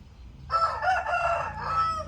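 A rooster crows once in the morning, a single drawn-out call of moderate loudness heard at some distance over a quiet background.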